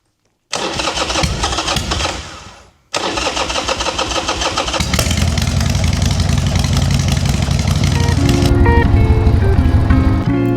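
A motorcycle engine cranks and catches after a short pause, then settles into a loud, steady idle close by, its rumble running continuously to the end with no talk.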